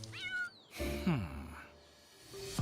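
A house cat meows in a short radio ad sound effect, a couple of close, clear meows with a brief rising, wavering cry between them and no talk over it.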